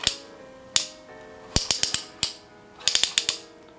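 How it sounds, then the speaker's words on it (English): Plastic clicks from a LOKBY six-setting handheld shower head as its spray setting is switched, sharp close ratcheting snaps coming singly and then in quick bursts, with no talk. "So the way how you can adjust different settings or the spray option is by pulling this option right here."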